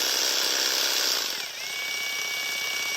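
A Woodstarter cordless jigsaw runs at medium speed with a loud, continuous buzzing whine, dipping briefly as the speed shifts mid-run and then holding steady, close by with no other sounds.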